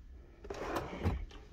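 Drawer sliding open in the sleeper cab of a DAF XG 480 truck, a quiet, brief wooden-sounding scrape and soft knock heard close by, with no talk over it.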